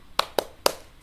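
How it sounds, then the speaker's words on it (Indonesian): Four sharp hand claps at a quick, even beat from a class doing a rhythmic spirit clap in a classroom, close and crisp against a quiet room. "Tepuk semangat."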